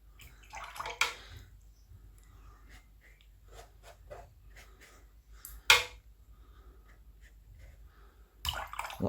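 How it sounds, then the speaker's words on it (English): Watercolour brush loaded with lots of clean water pulling out a green wash on paper, giving soft wet strokes and scrubbing swishes in short bursts, close and quiet, with occasional louder brush-on-paper sweeps. "Lots of clean water, just pulling that wash out."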